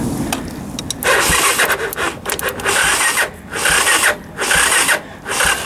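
A Honda 250SX ATV engine cranking in repeated bursts after long storage, with the fuel turned off and a weak battery: five loud, grinding starter attempts separated by short pauses, none catching.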